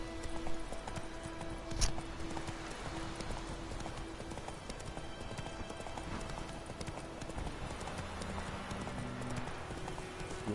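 Galloping hooves of Roach, a horse in the video game The Witcher, beat in a steady clip-clop under ongoing game music and ambience, with one louder thump near the start.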